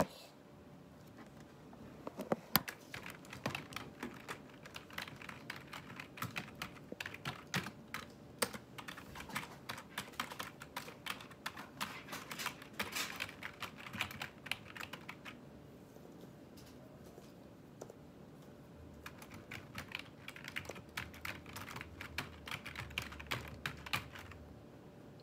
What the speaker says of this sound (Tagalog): baka magkatalsika naman yung keyboard mo dyan